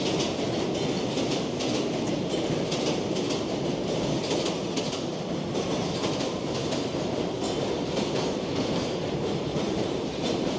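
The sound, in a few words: train arriving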